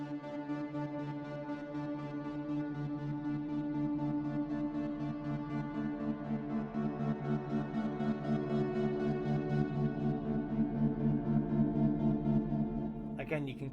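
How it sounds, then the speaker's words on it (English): Rhythmic, pulsing sustained tones from the Spitfire Audio Albion V gait sequencer, a chopped, gated texture repeating steadily for around fourteen seconds and building slightly before a sharp cutoff, with no talking. "And of course you've got a Gait Sequencer,"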